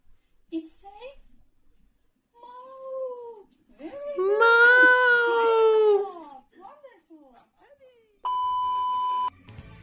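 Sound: child imitating cat meowing

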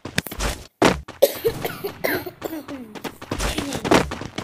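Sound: cough

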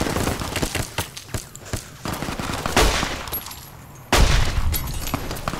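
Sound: gunfire from enemies shooting, from video game Fallout: New Vegas

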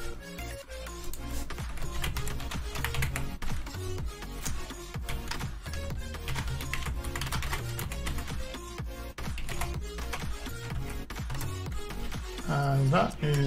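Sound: typing on a computer keyboard

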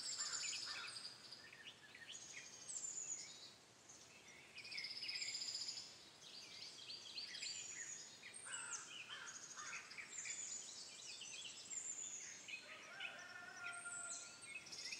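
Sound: birds calling in the morning

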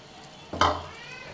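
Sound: gulab jamun frying in oil in a steel pan

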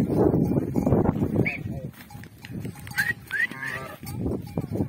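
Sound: sheep and goats with bells

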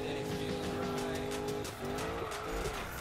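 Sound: Ford Mustang drifting with tire squeal, Need for Speed video game

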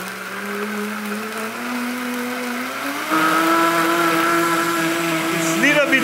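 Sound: blender running

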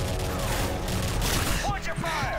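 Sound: gunfire in video game Modern Warfare 3 Spec Ops

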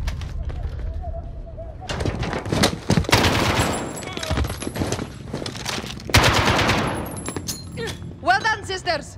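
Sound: gunfire in the video game Call of Duty: Modern Warfare

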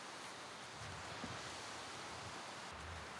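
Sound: gusty wind

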